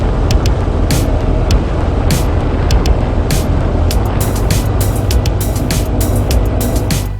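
Steady loud road and wind rumble of a motorcycle riding along Map Rock Road by the Snake River in southwest Idaho, recorded from a GoPro Hero 7 mounted on the bike's rear luggage rack, with scattered sharp wind buffets throughout.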